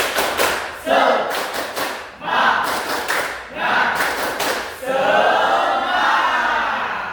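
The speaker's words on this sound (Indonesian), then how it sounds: "marilah kita tepuk semangat dulu, ya" A group claps a rhythmic spirit chant in unison, loud and close, with repeated bursts of synchronized claps and voices shouting along in a patterned beat.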